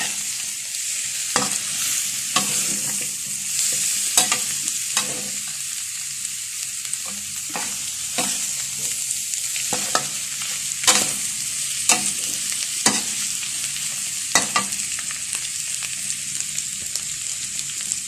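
Boiled bamboo shoots and egg stir-fry in vegetable oil with a steady hiss of sizzling, punctuated by repeated sharp scrapes and clacks of a utensil against the pan at an irregular rhythm.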